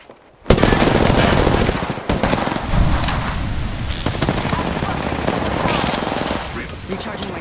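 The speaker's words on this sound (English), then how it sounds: "I'm taking fire." Video game gunfire bursts out after a brief quiet start: a dense, loud stream of rapid automatic shots with sharp cracks layered on top, continuing steadily to the end.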